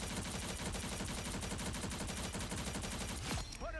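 Rapid automatic gunfire from Rocket Raccoon's gun in Marvel Rivals, aimed at a distant bot, a loud continuous burst of closely spaced shots lasting several seconds before cutting off near the end.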